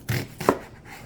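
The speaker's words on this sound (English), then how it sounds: "Let's cut the onion up into some big pieces here" A knife chopping an onion into big pieces on a cutting board while making a jerk chicken marinade, two quick close chops in a row.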